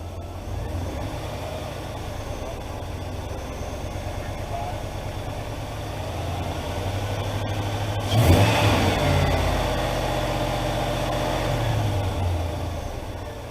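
A 2003 Chevrolet Silverado HD 2500 with the 8.1-liter V8 idles steadily, then the revs rise partway through and hold at a slightly higher, steady drone.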